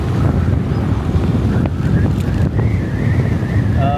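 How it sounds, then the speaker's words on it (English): Strong wind by a lake on the Goa coast, India, roars and buffets the microphone with a constant low rumble, loud and unbroken throughout. "Wow, the wind is way too much today, very windy."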